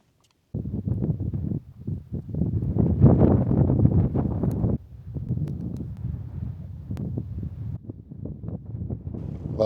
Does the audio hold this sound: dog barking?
no